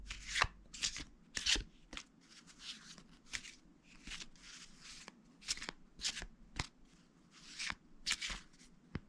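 Tarot cards shuffled by hand at close range, a soft steady run of riffling, slapping bursts repeating through the quiet with no talking.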